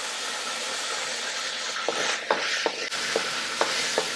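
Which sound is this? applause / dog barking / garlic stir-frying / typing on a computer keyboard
garlic stir-frying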